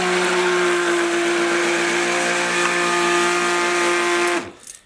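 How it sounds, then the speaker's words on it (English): A kitchen blender whirs steadily at high speed, mixing oils for cold process colored soap, a loud sustained motor drone that cuts off and spins down at the end. "Start your blender."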